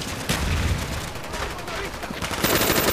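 Gunfire in the video game Call of Duty: Black Ops comes as dense, loud, rapid bursts of shots with explosive cracks, a busy online match mix heard up close.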